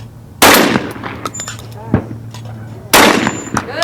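Two loud, close shotgun blasts ring out during clay target shooting, about two and a half seconds apart, each with a sharp report and a short echo. Faint voices can be heard between the shots.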